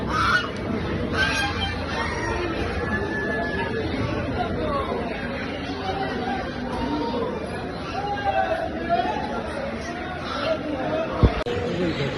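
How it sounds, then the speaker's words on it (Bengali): Ducks, chickens and other poultry at a wholesale market make a continuous background of honking, quacking and clucking, moderately loud and steady throughout, mixed with crowd chatter and voices talking. "মাংসের চাহিদা মেটায় এমন জাতের হাঁস, মুরগি, কবুতর পেয়ে যাবেন এই আড়তে"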